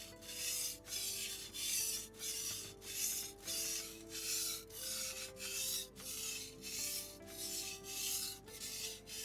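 A knife is sharpened on a whetstone with about fourteen even back-and-forth strokes, each a soft, close gritty rasp in a steady rhythm, quiet overall, with faint tonal music underneath.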